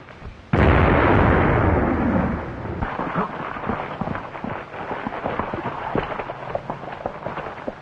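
A sudden loud explosion from night blasting at a mine, with a heavy booming blast that decays into a long rumbling, crackling rolloff.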